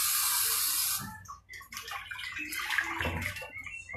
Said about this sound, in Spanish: la pasemos bien por agua caliente para quitarle ese olor que tiene a sangre